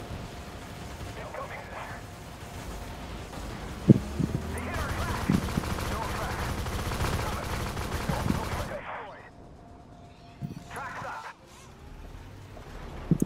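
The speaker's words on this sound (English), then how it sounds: "quit shooting at me" Video game gunfire during a platoon battle, bursts of shots and automatic fire layered under a continuous noisy battle din, with a louder sharp shot near the middle and the action dropping away toward the end.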